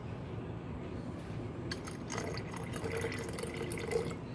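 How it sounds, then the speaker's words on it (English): A splash of vinegar pours into a container of purple wool dye, a soft trickling splash with faint clinks rising midway over steady low background noise. "we are going to add a splash of vinegar."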